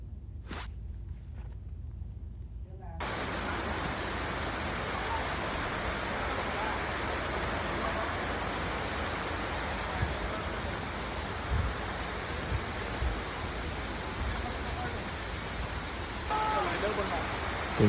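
Steady, broadband rushing of water at the fourth tier of Erawan waterfall dominates throughout, loud and continuous, preceded by a brief quieter moment at the start.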